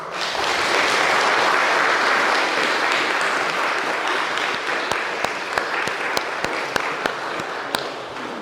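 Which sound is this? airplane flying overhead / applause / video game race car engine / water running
applause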